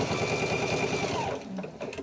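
A sewing machine runs steadily through a bag seam, its rapid even stitching chatter close and loud, slowing and stopping near the end with a few faint clicks.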